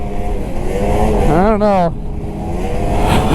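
A two-stroke snowmobile engine revs up sharply, its pitch climbing and then dropping back over about half a second, loud and close under the wind noise of riding, while a person speaks briefly.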